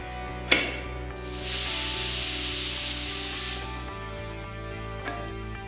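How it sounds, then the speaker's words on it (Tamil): A pressure cooker of black urad dal on a medium flame vents steam: a sharp click, then a loud, steady hiss for a couple of seconds that cuts off, over a low ongoing hum. "குக்கரை மூடி ஒரு மீடியம் ஃப்ளேமில் வச்சு ஒரு 5-6 விசில் வர"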